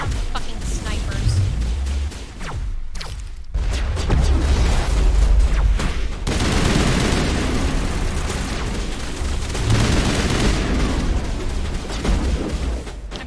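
Sniper fire and explosions in Mass Effect Legendary Edition, heavy booming shots and blasts scattered through a dense, loud combat mix with voices speaking over it.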